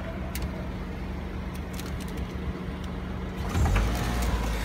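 A car fitted with a cardboard exhaust kit idles with a low, steady rumble, then the engine revs up briefly near the end, heard close and without speech.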